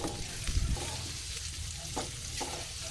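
Onions sautéing in hot oil in a pan for pork pinakbet, a close, steady sizzle with a few louder stirring scrapes and soft knocks.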